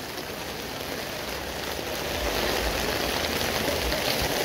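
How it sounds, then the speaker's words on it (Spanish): Heavy rain pours steadily over a town fair in Cuerámaro, Guanajuato, Mexico, a continuous close hiss with occasional low rumbles underneath and no talking. "Y no para de llover, ¿eh?"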